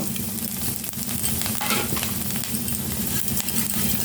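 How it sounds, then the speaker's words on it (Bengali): Semai vermicelli fries in hot ghee with cardamom and bay leaf, a steady close sizzle broken by scraping stirring sounds, with no talking. "এবার আমি এগুলো একটু ফ্রাই করে নেব।"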